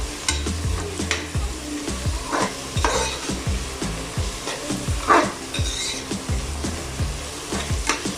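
Vegetables sautéing in a pan, a steady close sizzle broken by repeated scraping stirs of a utensil against the metal, with faint clinks now and then and no talking.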